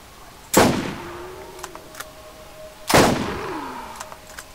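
A gun in a video game fires two loud, sharp shots about two seconds apart, each with a ringing metallic tail that fades out, plus a few faint clicks in between.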